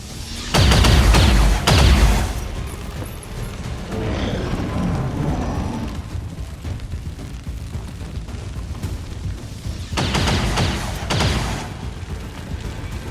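Gunfire crackles in XCOM: War of the Chosen as loud bursts near the start and again near the end, with a steady rumble of battle noise in between.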